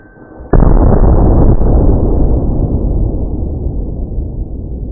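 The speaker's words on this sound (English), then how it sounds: "This thing made a heck of an explosion." A reactive target explodes when struck by a pellet from an Air Venturi Avenger PCP air rifle, giving one sudden loud blast followed by a long, rumbling decay that fades over several seconds.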